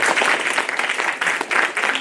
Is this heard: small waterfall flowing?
no